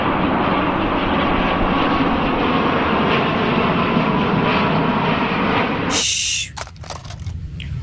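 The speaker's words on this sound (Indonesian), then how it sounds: "kalau yang ini pesawat penumpang Saudi Arabian, teman-teman" A Saudi Arabian passenger airplane roars loudly and steadily overhead, a dense broadband engine rush that fades and thins out near the end as it passes.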